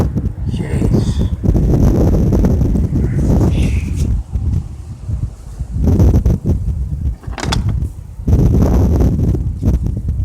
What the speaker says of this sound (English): Yeah, the wind.